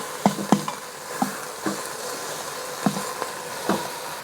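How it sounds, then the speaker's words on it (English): Beef ribs sear in a pan for Hong Kong borscht, giving a soft, steady sizzle with scattered sharp pops and clicks at close range, and nobody talks. "you can sear the back side of the ribs as well"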